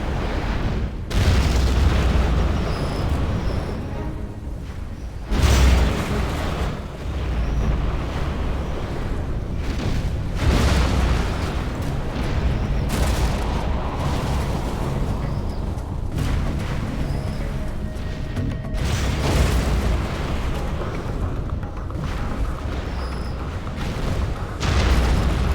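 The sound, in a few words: cruise missile explosions in Command & Conquer Generals video game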